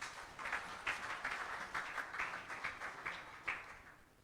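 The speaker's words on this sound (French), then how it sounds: "Est-ce qu'on peut applaudir pour la gloire de Dieu?" A church congregation claps together in a steady, even patter that holds for the whole stretch, soft and somewhat distant, with a few louder bursts.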